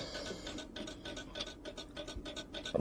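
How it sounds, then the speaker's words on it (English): A tiny screwdriver working a small screw loose on a fusee pub clock, giving quiet, close rhythmic ratcheting clicks and scraping scratches in quick succession with no voices. "Baby screwdriver for a baby screw."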